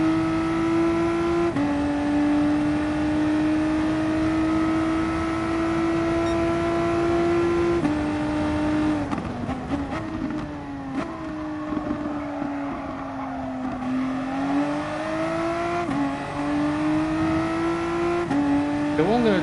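A race car engine on a Kyoto track howls steadily at high revs, dipping and climbing through gear changes in fourth and fifth gear, loud and close with a brief wind rush.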